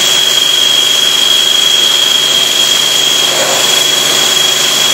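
A Quickmill machine drills tubesheet holes during a roughing operation, a loud, constant industrial roar with a steady high whine running throughout and no pauses.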